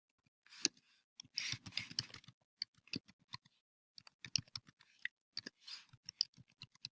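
Irregular bursts of soft keystrokes on a computer keyboard, close and quiet, with quick clusters and short pauses as a full name is typed, no talking.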